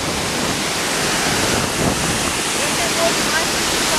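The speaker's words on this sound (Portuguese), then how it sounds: "Olha o tanto de água. Formou cachoeira pra todo lado aqui." Floodwater roars over the Rabo de Cavalo waterfall after a heavy rain, a steady, dense rush of falling water heard close and loud, continuous throughout.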